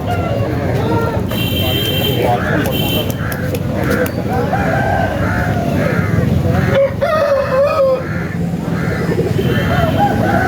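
A rooster crows amid clucking fowl at a busy Saturday country chicken market in Mamidada, the calls mid-distance under near-constant bargaining talk and crowd noise.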